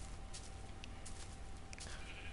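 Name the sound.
sheep bleating in the video game Minecraft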